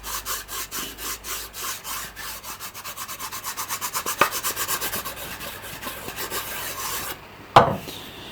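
Wax is rubbed onto wooden guitar cauls in quick, rhythmic back-and-forth strokes, a close scratchy rubbing that repeats steadily for several seconds, ends with a sharper knock, and has no voices over it.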